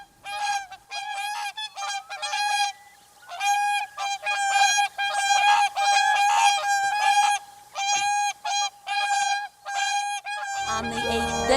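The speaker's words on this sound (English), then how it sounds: "to hear them flying over with their necks stretched out, bugling away, is one of the great winter sounds" Whooper swans bugle in a rapid series of loud, nasal, trumpeting honks, overlapping and close, with brief pauses between bursts.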